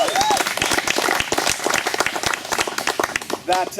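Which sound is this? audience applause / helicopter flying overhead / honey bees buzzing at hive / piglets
audience applause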